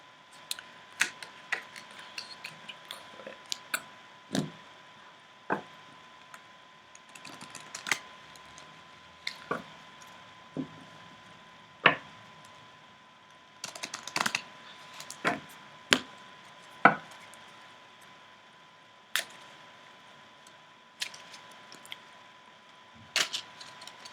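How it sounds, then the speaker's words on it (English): Tarot deck being shuffled by hand, sparse soft card flicks and taps spread unevenly with quiet gaps between them, close and fairly faint, without speech. "I'm just giving the cards a little bit of a shuffle"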